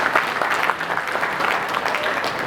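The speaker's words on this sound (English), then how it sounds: "Another clap to Dr. Jimmy." A crowd applauding steadily, a dense patter of clapping hands that holds at an even level throughout.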